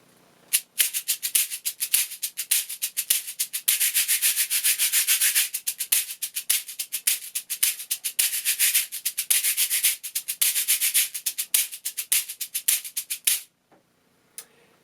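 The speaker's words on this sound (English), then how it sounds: "So that's what it sounds like on the medium-sized Cabasa." A medium-sized cabasa is played by rubbing and striking, giving a dense run of bright, close scraping rattles with sharp accented hits for about thirteen seconds, then stopping.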